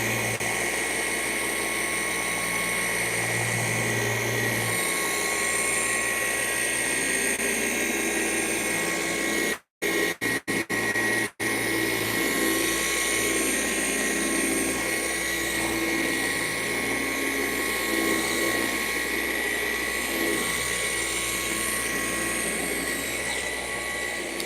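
Machine polisher running continuously on car paint during a final polishing pass, a steady loud whine with a low drone, briefly cutting out near the middle before resuming.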